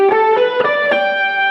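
Sustained fuzzy, distorted electric guitar notes ringing out in a short lead phrase, buzzy and loud, with a few picked note changes.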